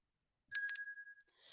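A bright notification bell chimes once as a sound effect, a clean ringing ding with a short shimmer that decays over about half a second, followed by a faint trailing hiss.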